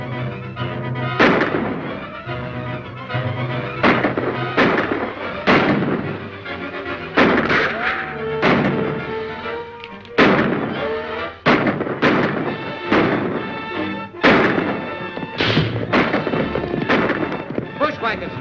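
Repeated sharp explosive blasts from grenades in a 1941 western film, a dozen or so bursts at irregular intervals over a dense battle soundtrack with music and voices.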